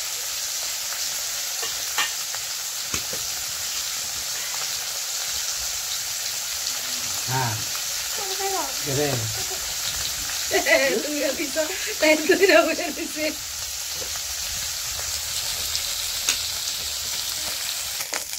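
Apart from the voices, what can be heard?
frying river fish in a little oil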